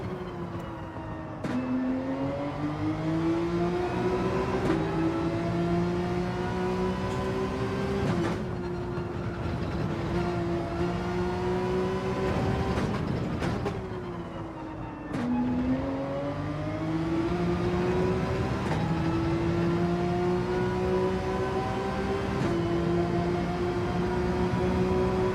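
Race car engine in Gran Turismo 7, a BMW on track, holding a steady high drone with repeated pitch climbs and drops as gears shift and the car brakes for corners, loud and continuous with no talk over it.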